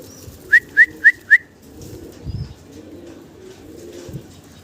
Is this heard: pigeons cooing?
yes